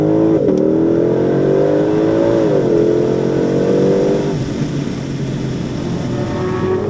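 Shelby sports car at speed on a race track during its first ever track outing, its engine note climbing in pitch and then dropping away, loud and close for a few seconds before fading to a lower drone.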